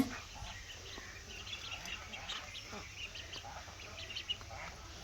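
High, thin peeping from ducklings, many short calls scattered throughout over a steady low rumble of background noise.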